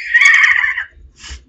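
A single horse whinnies loudly and close by in a short, quavering burst lasting under a second, followed by a brief fainter snort or call after a pause, outdoors at a street celebration.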